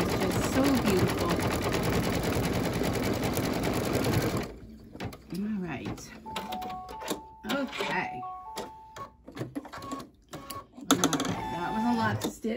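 Embroidery machine stitching out a mug rug design in the hoop, running loud and steady with dense rapid stitching for several seconds, then continuing more softly beneath a person talking.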